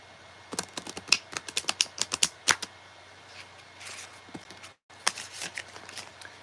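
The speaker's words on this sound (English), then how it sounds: "I'm just gonna do some extra shuffling here while I wait." Tarot cards being shuffled close up, a run of sharp snapping riffles followed by a quieter soft shuffling stretch, then another burst of crisp card flicks.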